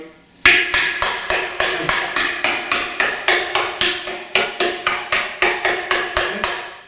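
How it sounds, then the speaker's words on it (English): A hammer sounds out a boat deck in a steady series of about seventeen sharp, ringing taps, close and loud, with no voices. "I'll start with my hammer, okay? And I'm going to start sounding out"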